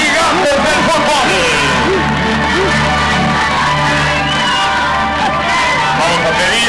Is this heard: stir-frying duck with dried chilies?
no